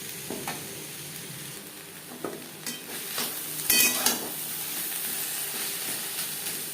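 Taro stolons cooking with turmeric and salt in a pan: a steady sizzle with a few clanks and scrapes of the spoon as it is stirred, loudest near the middle, no talk.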